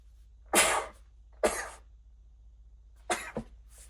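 Three short, sharp bursts, a sneeze and a couple of coughing fits from someone with a cold, close by, separated by quiet pauses over a low hum.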